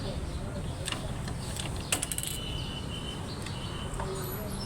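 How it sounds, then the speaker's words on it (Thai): A seized kick starter on a Honda Wave 110i motorcycle with a stuck piston from dry engine oil is pressed, giving a few sharp metallic clicks and a brief ratcheting clunk over steady background noise. "กดขัดสตาร์ทไม่ลงนะครับ"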